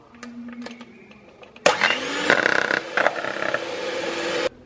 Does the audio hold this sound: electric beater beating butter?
yes